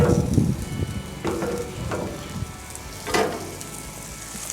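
Sausages sizzle on a Blackstone flat-top griddle, a close, steady frying crackle broken by several sharp spatula scrapes and taps against the metal surface.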